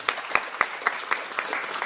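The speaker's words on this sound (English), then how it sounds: "Let's clap for that." Scattered applause from a small audience at a university gathering, a few distinct claps repeating irregularly, moderately loud and fairly close, with no voices.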